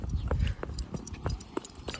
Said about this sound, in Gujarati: આપણે ઘોડી છોડીને જાય છે